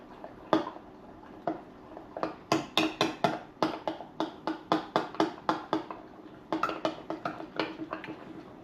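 Burger ingredients mixed with rice wine vinegar produce a rapid, steady series of clinks and taps as a utensil strikes the bowl in a rhythmic mixing motion, close and fairly crisp, with a short pause midway.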